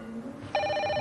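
A telephone bell suddenly starts ringing halfway through, a loud, steady, bright metallic tone that sounds close, after a brief quieter moment.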